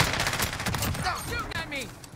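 Rapid automatic gunfire bursts from the Modern Warfare video game, with an MK2 rifle in play, crackling densely and continuously at close range through the whole stretch, with no talk.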